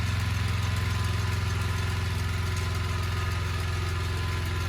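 A new hand tractor's engine idles steadily, a fast, even low-pitched chugging with a continuous drone, loud and close, running alone with no voices.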